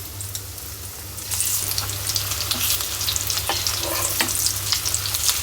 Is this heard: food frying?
yes